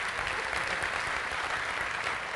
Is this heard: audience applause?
yes